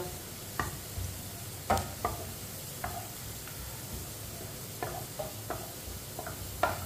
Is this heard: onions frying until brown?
yes